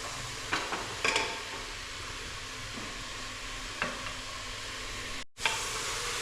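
Green chillies are dropped into a pan and stirred for a chicken curry: a quiet, steady sizzle with occasional spoon scrapes and a brief cut to silence near the end.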